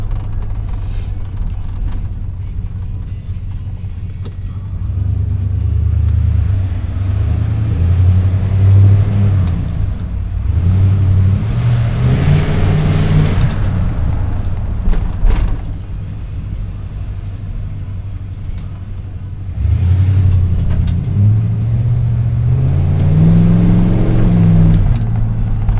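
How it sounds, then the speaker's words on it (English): A 1993 car or truck fitted with a Cherry Bomb exhaust muffler, heard from inside the cab while driving: a steady low rumble that swells into repeated rev-ups and accelerations, with no talking. "It's a cherry bomb."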